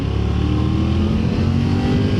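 A Triumph Tiger 900 GT Pro adventure motorcycle engine growls in a loud, steady, aggressive rev with a dense, rough low rumble, held evenly throughout with no talking.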